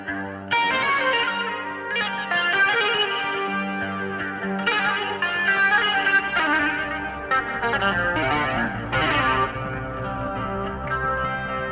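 Heavily distorted electric guitar with a swirling, chorus-like effect plays continuously within loud, dense music, with no talking.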